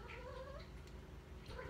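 A cat lets out a drawn, wavering meow near the start and another cry near the end, fairly close against a steady low background hum with no speech.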